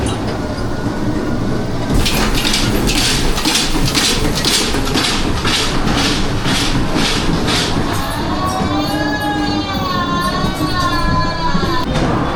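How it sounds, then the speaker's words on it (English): A ghost train ride car at Coral Island rattles and clacks along rails with a loud, steady rumble, then high squealing, wavering tones rise over the clatter. "A POV view of the Coral Islands spooky ghost train."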